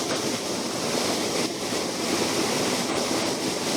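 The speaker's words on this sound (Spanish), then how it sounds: "No sé si se me escucha bien porque hace bastante ruido, pero mira qué caída de agua tenemos más bonita." A small mountain waterfall roars steadily and loudly close by, a dense continuous rush of falling water with no breaks and no voices.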